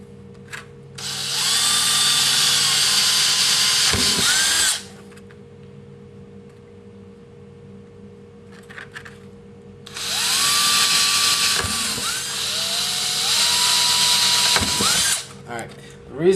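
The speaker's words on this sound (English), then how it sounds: "And then just drill a hole through them." A power drill bores holes through wood while making a shield, two long loud whirring bursts with pitch dips as the bit bites, separated by a quiet pause.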